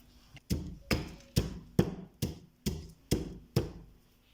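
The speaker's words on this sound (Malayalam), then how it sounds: "ഞാനിവിടെ പാവയ്ക്ക ഇങ്ങനെ ഇതിനകത്ത് ഇടിച്ചെടുത്ത്" Pieces of frozen bitter gourd crushed in a mortar, eight steady, heavy knocks in a regular rhythm. Each blow lands with a hard, crisp thump close by, and nobody speaks.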